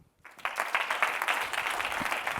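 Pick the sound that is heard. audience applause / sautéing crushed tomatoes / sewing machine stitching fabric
audience applause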